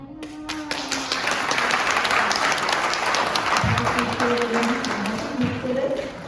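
Audience applause for a poet at a poetry recital event in Abu Dhabi, a dense steady wash of many hands clapping that fills the room for several seconds, with a brief voice heard underneath near the end.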